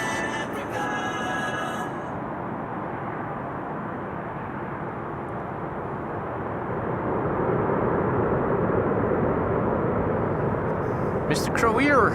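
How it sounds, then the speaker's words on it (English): A KLM Boeing 787-9 Dreamliner arriving at Amsterdam Schiphol Airport, a broad steady jet roar heard from a distance that swells gradually louder toward the end. "KLM flight 598. This is 7879 Dreamliner arriving from Cape Town in South."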